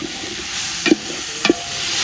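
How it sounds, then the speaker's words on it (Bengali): Tomatoes sauté in hot oil spiced with ground coriander and cumin, giving a steady close sizzle broken twice by short scraping stirs of the spoon. "টমেটো একটু কষাবো।"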